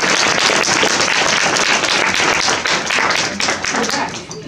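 Dense, steady audience applause fills the room, many hands clapping at once before tapering off near the end.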